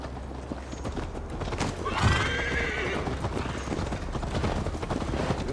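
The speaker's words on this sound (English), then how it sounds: "Mount up, Eivor. It's a long ride to Tamworth" Horse in the video game Assassin's Creed Valhalla, with a clear whinny midway over steady clip-clop hoofbeats and faint background game sounds.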